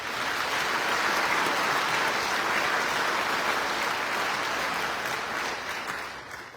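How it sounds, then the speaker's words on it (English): Sustained audience applause fills a Ranger Hall of Fame induction ceremony honoring Merrill's Marauders, a loud steady clatter of many hands that holds evenly for about five seconds before beginning to taper off. "Let's give a huge round of applause for the Merrill's Marauders."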